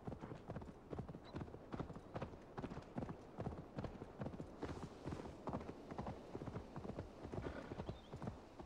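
A horse gallops in Assassin's Creed Valhalla, its hooves beating out a steady, quick clip-clop rhythm at fairly close range throughout, with occasional faint background sounds.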